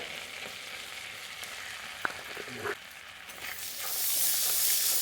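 Whole cumin seeds hit hot oil for a prawn malai curry and give a steady crackling sizzle with a few clinks. The hiss swells brighter and louder toward the end.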